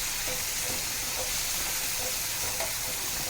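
Tanjaliya greens curry with red chilli, turmeric, salt and a splash of water sizzles steadily in a pan while being stirred, a dense close hiss with faint scraping strokes.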